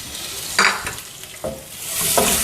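Onion sautéing in a pan for sambar, with a steady sizzle broken by three distinct spoon scrapes and stirs against the pan, close and fairly loud, with no voices.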